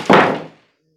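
A cat knocks a cat food bowl off a cat condo play area, giving one loud, close thunk that fades quickly into silence.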